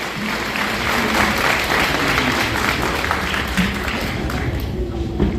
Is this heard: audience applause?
yes